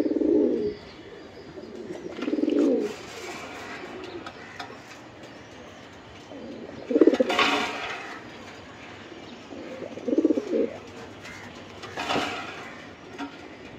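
Racing pigeons cooing in a loft, several low throaty coos in short bursts spaced a few seconds apart, fairly close and soft, no voices.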